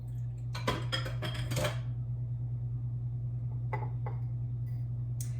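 Cookie batter with egg yolks, eggnog and vanilla stirred in a bowl: a quick flurry of close clinking and scraping utensil strokes, then a few lighter taps, over a steady low hum, no voices.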